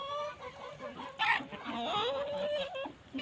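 Chickens on a farm clucking and squawking, several birds calling near at hand in quick, uneven bursts, fairly quiet overall, with no talking.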